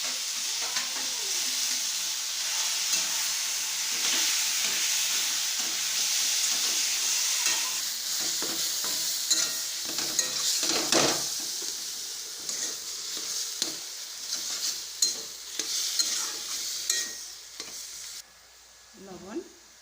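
Taro greens fry hard in hot oil in a pan, a steady loud sizzle with spitting splatter and scraping stirs throughout, briefly broken near the end.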